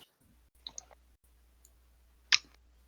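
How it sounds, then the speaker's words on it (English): Sparse clicking effects during a tabletop role-playing game session, a few faint clicks and then one sharp louder click, over a quiet low hum with no talking. "you hear just a bunch of series of clicking coming from behind you guys in this room"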